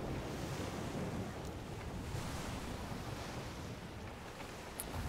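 Rough open sea in the pirate sailing game Skull & Bones, a steady broadband rush of surf and wind around a ship, moderately faint and continuous with no voices.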